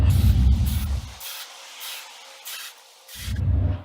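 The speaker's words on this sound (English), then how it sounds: "I'm gonna blow up the balloon real quick." A balloon is inflated by mouth in bursts of breath, with several close, windy puffs of air separated by brief pauses, loud and airy with low rumble at start and end.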